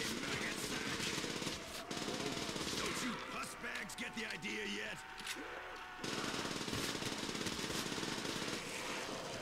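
Rapid automatic gunfire in a World at War zombies mode rattles almost without pause, with short gaps and shifting intensity, layered over game noise and faint talk.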